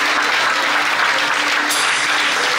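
A church congregation applauds during a sermon, a steady dense wash of clapping hands that stays loud and even throughout the short stretch.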